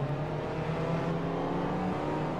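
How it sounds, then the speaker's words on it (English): Engine of a Toyota Prius in the Forza Motorsport 4 racing game hums steadily, a continuous, loud droning whir with a slight pitch rise as it accelerates, with no voices. "Oh my gosh, we're in a Prius."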